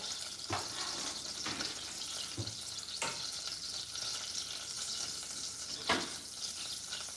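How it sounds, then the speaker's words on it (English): Steady, loud sizzling of garlic frying in a hot pan, with occasional clinks and stirring scrapes over the crackle. "The garlic is loud."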